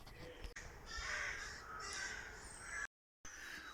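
Crows caw repeatedly in a remote Scottish forest beside a frisbee golf course, harsh calls layered over one another and fairly close, with a brief dropout near the end.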